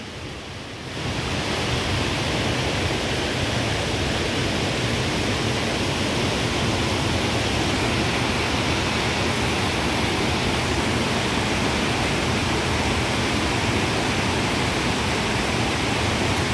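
A flooded river rushes in a steady, dense roar of water that holds loud and unbroken from start to finish, with no voices over it.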